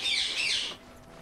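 Birds in the Final Fantasy 7 Rebirth video game give a brief, bright, close chirping squawk that fades out quickly.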